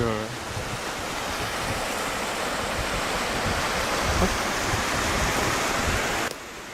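A small mountain torrent flows beside a very old water mill in Corsica, a loud, steady broadband rush of water that holds nearly unbroken until it cuts off abruptly near the end.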